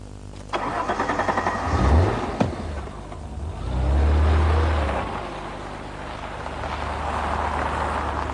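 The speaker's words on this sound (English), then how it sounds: "I've always loved the Alfa V6 unit. It's got a lovely exhaust snarl to it" An Alfa Romeo 164's V6 with automatic gearbox starts up and runs on the road, a sharp crank and catch followed by rising exhaust revs that swell and ease back through the gears, fairly close.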